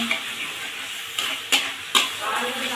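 A pan of fish masala with whisked yogurt (doi katla, rohu fish) being sautéed and stirred: a steady close sizzle with a few sharp scraping stirs of the spatula, no talking.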